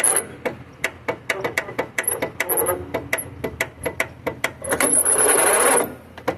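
A dragging starter slowly cranks a 20 hp Briggs and Stratton Vanguard vertical-shaft engine, making loud, close, rhythmic clicking and chugging turns with a rougher whirring stretch near the end.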